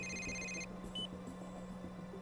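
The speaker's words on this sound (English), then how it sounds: "your phone's ringing." A phone rings in the Yakuza video game, its electronic tone pulsing steadily for about half a second before it cuts off, leaving a low game hum and faint ambient noise.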